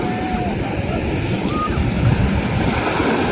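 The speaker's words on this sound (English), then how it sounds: "It is very, very windy and wavy, so it's very loud." Strong wind roars across the microphone at a beach over the continuous wash of ocean surf, loud and unbroken throughout.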